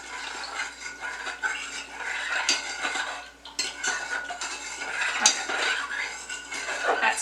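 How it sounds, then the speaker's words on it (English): Elderberry syrup sweetened with honey or maple syrup being stirred in a container, with a utensil clinking and scraping against the sides in steady bursts, fairly close and with no talking. "That's stirred up well."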